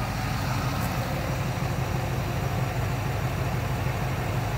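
A 1984 Chevrolet K5 Blazer that sat unused for over ten years idles steadily, a constant low engine rumble with no talking.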